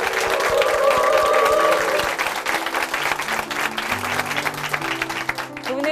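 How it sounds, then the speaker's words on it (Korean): A church congregation applauds a brother after his testimony during a broadcast service, with loud, full clapping from many people at once over soft, sustained instrumental tones that taper slightly toward the end. "우리 형제님께 다시 한번 박수 부탁드리겠습니다"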